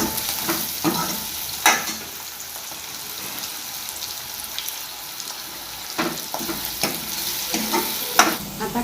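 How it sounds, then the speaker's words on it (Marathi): Sliced onion fries in hot oil in a pan while being stirred, a steady soft sizzle broken by scraping spatula strokes and occasional louder stirring clatters, close and with no talk. "कांदा तेलात चांगला परतू द्यायचा"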